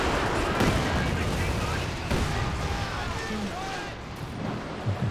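A Werfer rocket artillery barrage in Company of Heroes 2 rumbles as a dense, sustained wash of distant launches and explosions, moderately loud, with game battle noise under a voice commenting.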